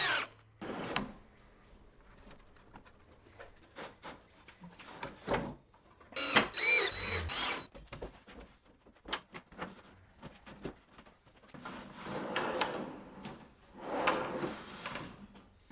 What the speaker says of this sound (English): Then I could pull the shelf and the drawer slide out and connect the two together.